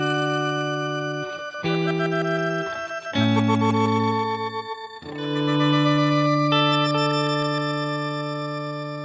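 Electric guitar through a shimmery delay plugin, building a layered ambient pad as sustained notes stack into one another, close and steady with no talking.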